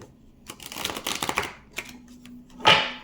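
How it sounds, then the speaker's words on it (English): A deck of cards being shuffled by hand in a quiet room, with a quick run of dry riffling clicks, a short pause, a lone snap and then a final sharper flutter. "That was a horrible shuffle."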